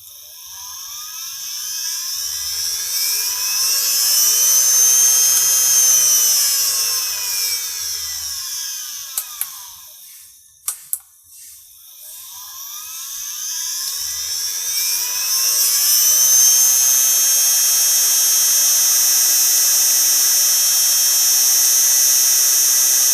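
An Arduino-controlled overhead stirrer motor whines as it spins up with a sweeping rise in pitch, clicks and halts near the midpoint, then ramps up again to a steady high whir.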